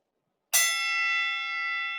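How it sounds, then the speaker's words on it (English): A single bright bell strike, used as a scene-change cue, rings out sharply after a moment of silence and sustains a clear metallic tone that slowly fades. "You can tell that the scene has changed because of this bell sound."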